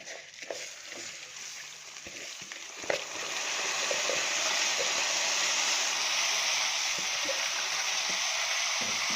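Rice hits fried vermicelli in hot oil for Egyptian koshari. A steady, loud sizzle swells and holds, with a few light scrapes and clinks of stirring at first and no voices.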